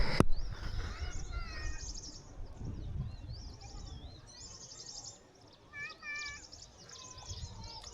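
Birds sing and chirp with high, bright warbling phrases and short repeated trills in open countryside at Zarwani near the Statue of Unity, moderately distant over a soft rustling background, with no voices.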